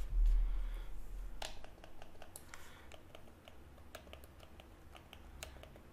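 The repaired touch-pad button on an HTC VIVE controller is pressed repeatedly, producing a series of small sharp clicks, irregular in rhythm, close and quiet over a low background hum.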